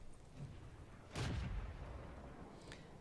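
A howitzer in a tank video game fires a shell, a single muffled, distant boom with a short rumbling tail set against a faint background.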